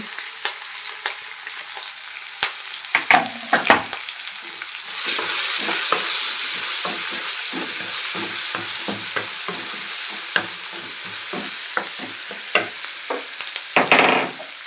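Chopped onions sizzle in a hot pan while a spoon stirs them, with scraping clinks and stirring strokes in an uneven rhythm over a continuous close frying hiss.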